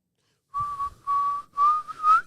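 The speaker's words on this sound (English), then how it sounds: "I'm pulling up whistling because you can't get this wrong." Someone whistles four short, clear notes, the last one sliding upward, alone in an otherwise silent space.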